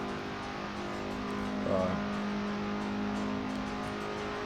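FSO Polonez engine pulling hard on an uphill stretch of the Nürburgring, a steady droning in-car roar that swells briefly with a gear change and then holds at high revs, with a faint voice under it.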